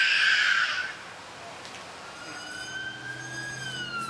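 Fire engine siren in the Mind Rider video game, a steady rising wail that comes in after a loud burst of higher noise at the start and holds on at moderate level.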